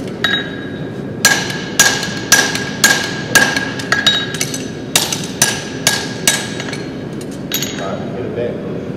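A blacksmith's hammer strikes hot metal in a steady run of about a dozen sharp, ringing blows with a few doubled hits, loud and close, tapering off near the end.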